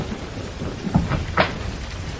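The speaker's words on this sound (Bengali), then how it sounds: "বাইরে বৃষ্টির ঝমঝম আওয়াজ" Heavy rain pours steadily outside open windows, a dense wash of sound with a couple of brief thunder knocks rising out of it.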